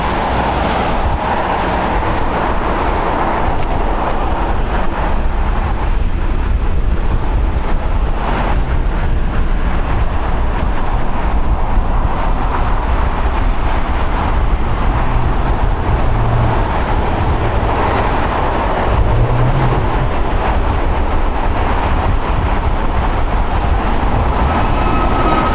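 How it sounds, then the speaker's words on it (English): A Qantas Airbus A380 rolls along at LAX, its engines giving a steady, loud, continuous roar that holds through the whole stretch, with a faint low rumble underneath. "The Qantas A380 making his way over here."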